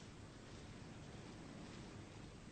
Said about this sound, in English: In the distance I could hear the waves breaking on the shore.